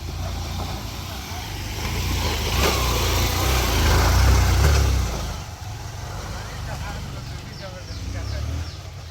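Motorbikes climb a steep forest hill path on Parasnath Hill, their engines swelling loud and close in the middle before fading, with hikers talking over the noise.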